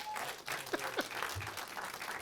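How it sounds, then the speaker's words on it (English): An audience at a live event in the Waynesboro Theater claps for a performer, a brief moderate burst of applause with voices mixed in. "Clap for him."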